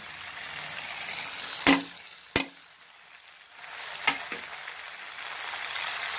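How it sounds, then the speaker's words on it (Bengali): Chopped onion goes into a hot frying pan and sizzles steadily up close, with a few sharp clacks and thumps as it lands and is moved around. "তারপরে আমি এখন পেঁয়াজ কাটাটা দিয়ে দিচ্ছি।"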